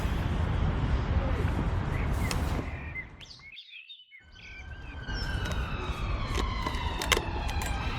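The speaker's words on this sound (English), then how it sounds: "As you can hear, all the sirens in the background" Distant emergency sirens wail with rising and falling tones beside a river, mixed with birdsong, while steady broadband noise comes and goes and someone talks nearby.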